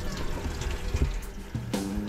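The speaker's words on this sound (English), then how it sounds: "plus a 12 volt water tap" A 12 volt water tap in a DIY camper van kitchen runs with a steady splashing flow, close and moderately loud, with a small clunk and pitch shift near the end.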